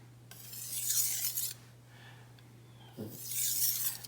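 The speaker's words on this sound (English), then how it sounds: "So I'm hearing some little ticky sounds, and you probably feel them. What that is grit from other stones." A knife is sharpened on a stone in two loud rasping strokes separated by a quiet pause, with a faint low hum underneath and a small click between strokes from grit left by other stones.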